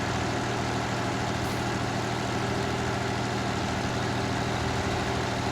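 Tractor engine idling in the Farming Simulator 19 video game, a loud, constant low rumble with a steady droning hum and no pauses.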